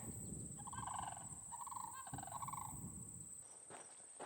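A group of sandhill cranes calling in the distance with warbling, rolling cries in several bursts, faint against steady insect drone and outdoor hiss on a rural trail.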